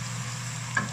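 Dried radish stir-frying in a pan for a radish omelette, a steady close sizzle with a brief brighter crackle near the end, no voices.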